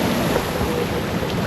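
Ocean waves wash over rocks on a Chilean beach, a continuous loud surf rush with wind buffeting the microphone and no speech.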